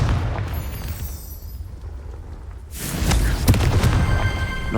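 A Confringo fire spell in Hogwarts Legacy goes off as a sudden booming blast partway through, after a quieter lead-in, then rolls on with crackling, rumbling aftermath; loud and close, with no voice.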